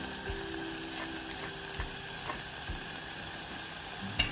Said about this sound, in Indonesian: tunggu si daun bawang sampai sizzling